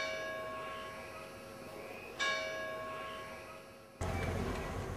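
Church clock bells ring out over a Cinque Terre village, faint and distant, each toll sounding with a bright metallic strike and a long ringing decay, with about three strikes spaced a couple of seconds apart.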